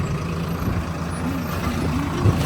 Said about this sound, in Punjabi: ਟਰੈਕਟਰ ਨਿਆਰੇ ਨਾਲ ਚੱਲ ਰਿਹਾ